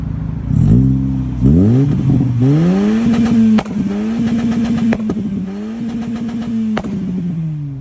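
A tuned GK manual-gearbox car engine with aftermarket exhaust and 15-inch wheels revs hard through the gears on 95 gasohol, loud and close, rising in pitch, dropping at each shift and climbing again, with exhaust crackles between pulls.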